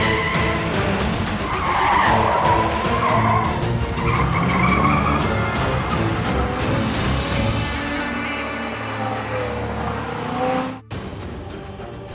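A car reverses hard with its tires skidding and squealing, a loud, continuous screech over the roaring engine that lasts most of the clip before a sudden cutoff.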